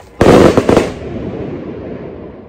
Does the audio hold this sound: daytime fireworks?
yes